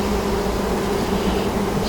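Honeybees swarm and buzz around an open hive while a mated queen is being introduced, a steady, dense, close drone that holds without a break across the whole moment.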